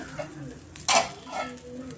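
Rava dosa batter being mixed in a bowl, a few soft stirring scrapes with one brief louder clatter of the spoon against the vessel, fairly close and quiet.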